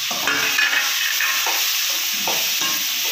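Onions with mustard seeds and curry leaves frying in hot oil for a fish and egg gravy, giving a steady close sizzle with a few brief stirring scrapes and no talk.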